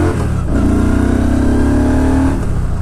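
A Yamaha V Star 1300 Tourer motorcycle accelerating hard, its loud, close engine note rising steadily in pitch for a couple of seconds before easing off.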